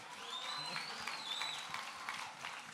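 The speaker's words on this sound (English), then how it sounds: "You guys clap after everything." An audience at a live Shinedown show in a small club applauds, with faint, steady clapping and some murmuring and cheering in the background throughout.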